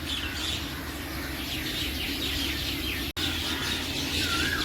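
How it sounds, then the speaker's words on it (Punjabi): A dense, continuous chorus of many birds chirping and calling as flocks settle into an old banyan tree, steady and fairly close throughout, with no voices. "ਆਹ ਦੇਖੋ ਕਿਵੇਂ ਡਾਰਾਂ ਦੀਆਂ ਡਾਰਾਂ ਆ ਰਹੀਆਂ।"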